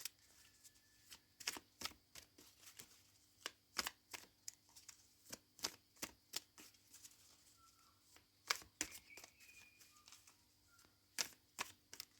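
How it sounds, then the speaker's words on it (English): Tarot cards are shuffled and drawn, giving soft, quiet riffles and crisp taps at an uneven rhythm, heard alone against a faint background hum. "Let's pull the next card."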